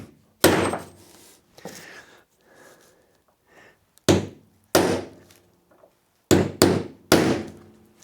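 Hammer blows put a dimple into a metal part for a Ljungström turbine rig: loud, close, ringing strikes in irregular bursts of single and double hits, separated by quieter pauses and small handling knocks.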